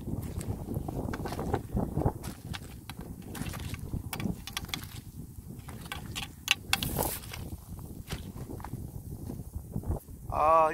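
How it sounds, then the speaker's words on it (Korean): Wind blowing outdoors beside the Bukhan River, a rough, gusty rush buffeting the microphone with scattered crunching and movement noises, fairly close and steady, with a louder gust near the end. "바람이 살랑살랑 불어오고 바람은 약간 쌀쌀합니다."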